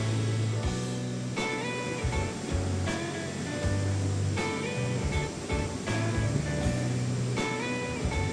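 A roaring waterfall with a 26-meter drop over lava bedrock beside a river near a centuries-old samurai hot spring in Japan, a continuous broad rush of falling water heard close, with faint background music over it.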